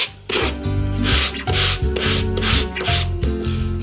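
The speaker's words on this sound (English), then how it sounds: "So just bring it back, sand from the corner back." Hand-sanding of the wooden cabinet of a vintage UNIC 'Royal' radio being restored. Loud, close, rhythmic back-and-forth rasping strokes run steadily throughout, with no talking.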